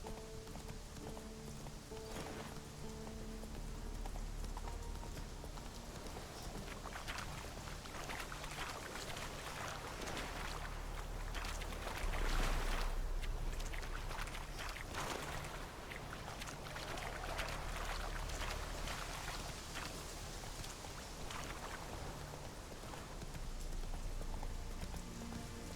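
A horse's hooves clop in a steady trotting rhythm in The Witcher 3, moderately loud and continuous under game ambience, with no talking.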